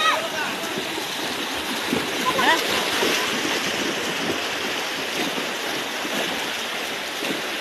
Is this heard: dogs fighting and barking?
no